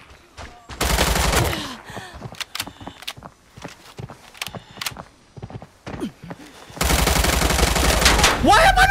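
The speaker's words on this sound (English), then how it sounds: "Shooting!" Gunfire in the game Arena Breakout, loud rapid automatic bursts at the start and again near the end, with scattered single shots, footsteps and movement sounds in between.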